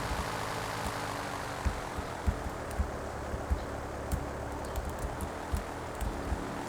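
Airplane engine in GTA 3, a steady droning hum with faint propeller buzz, accompanied by scattered light clicks and taps at moderate level, no talk.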